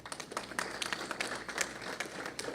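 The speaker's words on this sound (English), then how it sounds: "First, let us give the children a round of applause." Audience applause for schoolchildren at a national school competition prize distribution, steady clapping from a crowd with distinct sharp claps scattered through it over a few seconds.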